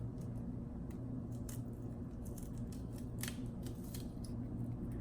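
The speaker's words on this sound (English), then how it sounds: "You don't have to dice it up, but you can like split it apart like that." Half an onion is pulled apart by hand in a kitchen while making sauce, giving a few crisp, crunchy cracks and snaps over a steady low hum of background noise.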